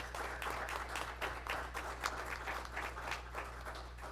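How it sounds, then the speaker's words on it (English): Applause at a school district board meeting, a modest room of people clapping steadily with a low hum underneath, the claps irregular and fairly close. "So another applause for that one there."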